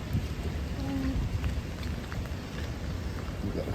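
Rain falls steadily as a continuous broadband hiss for a few seconds, with no voices.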